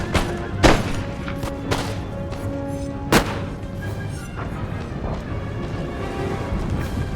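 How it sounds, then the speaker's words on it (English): Massed troops fire guns in an Empire Total War battle: several sharp musket volleys and booming reports at irregular intervals, the loudest near the start and middle, over a continuous rumbling battlefield din. "they're firing in masses into the forest here"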